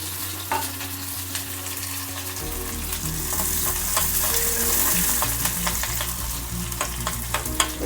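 Onions frying in a spoonful of oil in a pan for a stuffed brinjal masala curry, a steady close sizzle with scattered crackles and occasional stirring scrapes, no talking.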